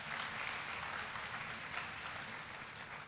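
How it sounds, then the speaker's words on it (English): Sustained applause from a large audience at a parents and family orientation gathering, steady clapping filling the whole moment without a break. "So another round of applause for Guild President."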